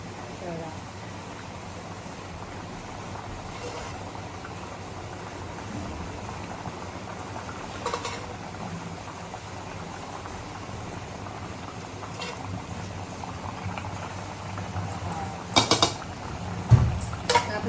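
Surmai fish curry gravy simmers in a pot with a soft, continuous bubbling and crackle, faint and even, while a person talks over it and a few clinks sound near the end.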